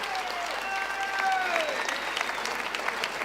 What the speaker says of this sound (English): please give both boxers a round of applause